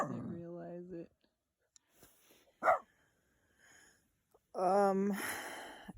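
A dog on a solo paddleboard trip in the Boundary Waters barks in a few short close bursts, separated by quiet pauses with faint sounds between.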